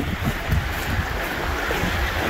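A mountain river rushes beneath a small bridge made of sticks in the Ala Archa gorge near Bishkek, Kyrgyzstan, giving a steady broadband roar of flowing water mixed with light wind, continuous and fairly close, with no voices.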